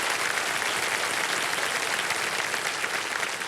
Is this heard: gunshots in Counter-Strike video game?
no